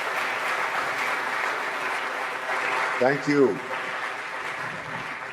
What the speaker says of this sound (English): A round of applause for both of those participants.